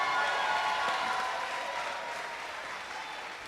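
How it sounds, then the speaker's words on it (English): Applause from the crowd at a Governor Cuomo housing announcement, honoring Reverend David Brawley; a dense, even round of clapping that begins loud and slowly tapers toward the end. "Let's give him a round of applause."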